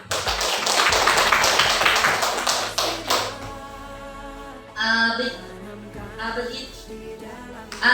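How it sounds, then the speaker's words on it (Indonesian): A small audience at a school presentation on positive culture claps in a brisk burst for about three seconds, then the clapping stops and a voice begins speaking. "Tepuk tangan untuk kita"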